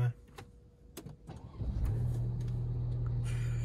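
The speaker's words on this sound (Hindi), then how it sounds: "देखते कोई डिफरेंस आता है कि नहीं गाड़ी ऑन करने में" A car just back from servicing cranks over and starts, a few clicks and a brief whir before the engine catches and settles into a steady idle, heard up close from inside.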